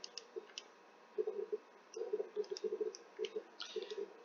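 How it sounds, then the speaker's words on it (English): Numbers being keyed into a calculator produce soft, quick button clicks in short irregular clusters, close and faint against a quiet background. "So I'm going to type that in my calculator"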